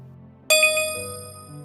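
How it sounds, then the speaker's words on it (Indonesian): Chat message notification ding on a phone, a single bright chime that rings out clearly and decays over about a second against a quiet room hum. "Chat dari Nindi masuk"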